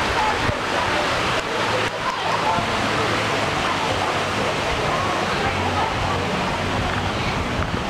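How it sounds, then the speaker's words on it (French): A waterfall spills into a resort pool at the RIU Bachata in the Dominican Republic, a dense continuous splashing rush heard close and steady, with a voice speaking over it. "Donc là on a la cascade"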